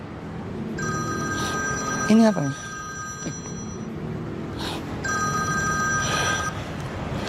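A telephone rings in two bursts, with a pause between them, fairly close and clear in an Indonesian drama-comedy film scene. A brief voice speaks just before the second burst.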